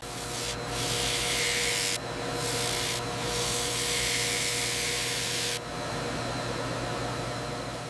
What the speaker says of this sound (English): A fine belt sander removes any adhesive squeeze out at the sole line.